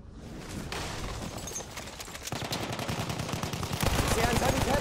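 Lewis Gun machine gun fire in Battlefield 1, rapid rhythmic bursts that grow louder and denser, with a voice talking over the shots.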